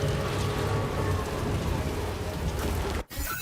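Steady rain pours down in the video game Death Stranding 2: On the Beach, a dense continuous hiss with low rumbling undertones, cut by a brief gap near the end before resuming.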